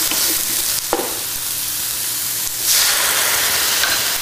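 Onions and apples sizzle in a hot pan with a splash of white wine, a steady close frying hiss that swells louder and brighter about halfway through.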